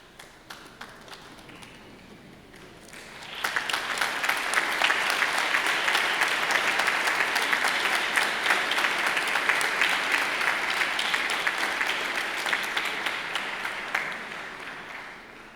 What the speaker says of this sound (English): I now invite you to stand and turn and express your gratitude with a round of applause.